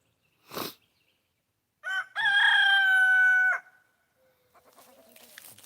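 A farm rooster crows once, loud and close, in a long sustained call preceded by a short clucking note, with quieter rustling and faint sounds afterward.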